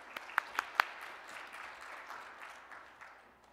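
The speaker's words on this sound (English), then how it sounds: "Please give her a round of applause." Audience applause at a SMPTE 2019 technical session, opening with a few sharp individual claps before settling into a steady, moderate wash of clapping that slowly fades away.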